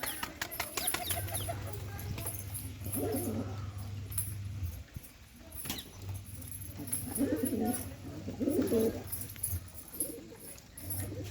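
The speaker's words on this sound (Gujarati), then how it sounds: "જોજો કબૂતર બધા ભેગા થઈ ગયા ખાવા હાટું આવી ગયા ખાવા" Low, rolling pigeon coos repeat nearby in two long stretches, with scattered bird calls and faint background voices.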